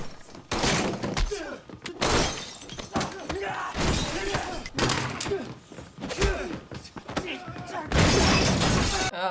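Glass shatters repeatedly in an action scene from the 2019 movie John Wick: Chapter 3 – Parabellum, with loud crashes, bursts of breaking and thuds mixed with voices talking and reacting.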